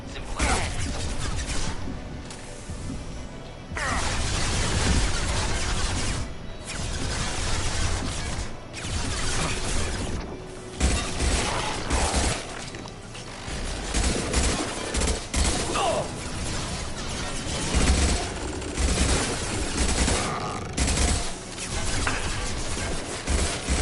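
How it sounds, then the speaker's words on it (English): Gunfire and high-impact shots in the Mass Effect video game: sustained bursts of rapid shooting and heavy impacts in close combat, pausing briefly between volleys, with mechanical clatter and occasional crashes. "Firing a high-impact shot."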